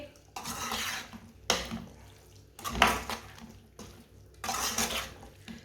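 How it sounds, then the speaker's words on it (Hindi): Mixed vegetables stirred with garam masala in a pan, four bursts of scraping and clattering separated by quiet pauses, close and moderately loud. "आधी चमची गरम मसाला, अच्छी तरह मिक्स कर लेंगे"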